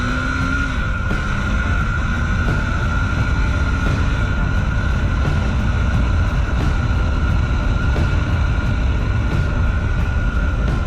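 A KTM 390 Duke single-cylinder engine pulls hard under throttle while riding, a loud continuous roar with a rising tone and rushing wind, with no voice over it.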